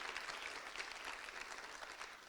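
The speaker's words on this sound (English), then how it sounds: "Can we give them all a round of applause" An audience at a panel discussion on gender equality applauds steadily, a soft, even wash of clapping heard from a distance throughout.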